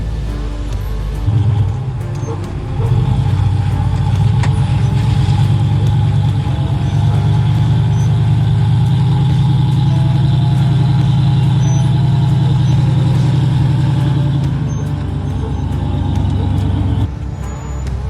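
A 4x4 rock crawler's engine labors loud and close on the Billings Canyon cutoff trail, a sustained heavy rumble rising and holding as it climbs over rock, then easing off near the end.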